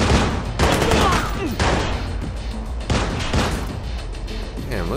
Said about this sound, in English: look at this guy with the shotgun going to work